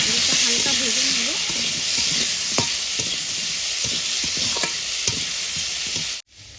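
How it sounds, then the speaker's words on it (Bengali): Potatoes frying lightly with salt in a pan, a steady close sizzle with occasional clinks of a stirring utensil, running alone and stopping abruptly near the end. "লবণটা দিয়ে আলুটা হালকা ভেজে নেব।"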